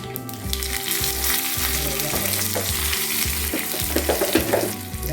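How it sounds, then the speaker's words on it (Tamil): Curry leaves, dried red chillies and mustard seeds crackling loudly in a little hot oil, a dense continuous sizzle up close over quiet background music. "இந்த கருவேப்பிலை இந்த எண்ணெய்க்குள்ளே நல்லா வறுவிடணும்."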